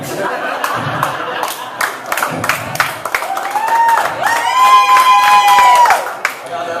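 A stand-up comedy audience claps and cheers loudly with scattered whoops, rising then fading, while someone speaks over the crowd.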